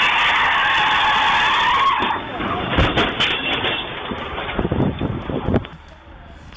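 A white car brakes hard on a roadside and skids, a long tire screech followed by scraping impacts as it slides into parked vehicles, loud and near, with wind noise and a voice speaking over it.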